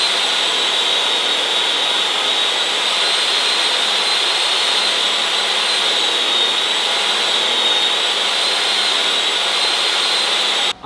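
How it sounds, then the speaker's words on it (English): A table saw cuts wood pieces for a DIY barn door, giving a loud, steady, continuous whine with a roaring wash of noise that holds for about eleven seconds before cutting off abruptly. "So we're gonna get to using the table saw."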